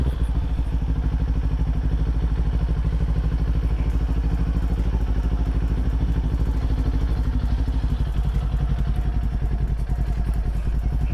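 Kawasaki Z400 motorcycle idling in a driveway with a light blip of throttle, a steady close, loud engine rumble with a fast, even pulse throughout and no voices.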